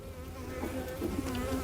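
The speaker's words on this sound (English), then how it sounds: "This is a really calm bunch of bees" Honeybees from a very large hive hum in a steady, low buzz that stays close and fairly quiet throughout the short stretch.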